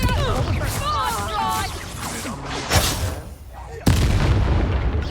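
A Confringo blasting-spell explosion in Hogwarts Legacy: a sharp boom bursts out after a stretch of talk and whooshing, followed by a second abrupt blast, both close and loud.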